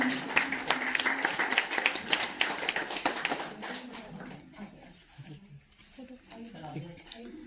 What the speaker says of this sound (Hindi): तालियां बंद नहीं होनी चाहिए, तालियां बजती रहनी चाहिए